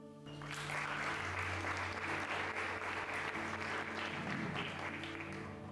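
Church congregation applauding during a sermon, steady sustained clapping from a large audience that fills the whole stretch without pause.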